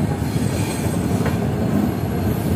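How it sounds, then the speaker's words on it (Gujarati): A passenger train pulls away from Ghaziabad station with a steady, close rumble of wheels on rails and a thin, brief squeal of the wheels partway through, with no voices. "ફાઇનલી આપણી ટ્રેન ગાઝિયાબાદથી નીકળી ગઈ છે."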